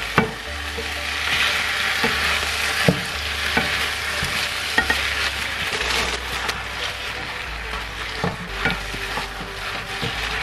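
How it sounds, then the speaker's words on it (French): Spinach stirred into a hot, sizzling pan of food with a little water, steady frying hiss with repeated scraping and clinking stir strokes throughout, close and moderately loud, no talking. "Et je vais tout doucement rajouter les épinards."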